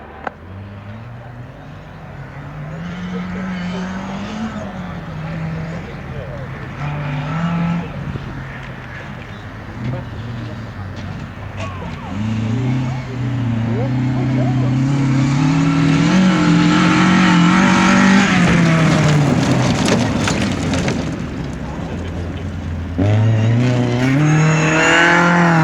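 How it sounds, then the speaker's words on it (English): A 1600cc Class 2 rally car at Rally Rushmoor 2005 slows and passes, its engine note rising and falling before a loud, close acceleration that builds and then eases, while a commentator talks over it throughout. "That car is slowing down."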